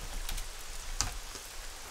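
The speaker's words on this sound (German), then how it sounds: "Ich hab den Regen nicht bestellt" Rain falling in the survival video game SCUM, a steady broadband hiss of drops on surfaces with a brief brighter patter near the middle, continuous and moderately soft.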